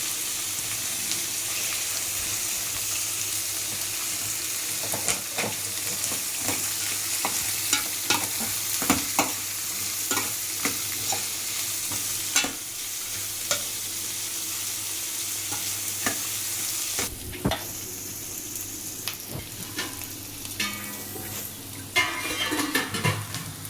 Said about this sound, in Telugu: చూసారండి ఎంత బాగా వేగిందో. బాగా ఫ్రై అయ్యింది.